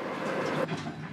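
A passenger train rumbles low and steady as it starts to move off, with a brief mechanical shift partway through and no voices.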